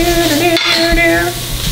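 Onions and butter sizzle in a pot on a stove while a chimpanzee cooks mac and cheese. A loud, close frying hiss runs under a wavering tonal whine, broken by a short clatter near the middle.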